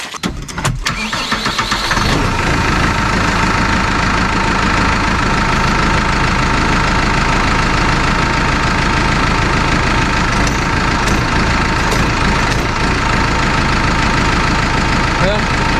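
Tractor engine cranking and catching after a brief start, then settling into a loud, steady, rough idle that runs continuously close by.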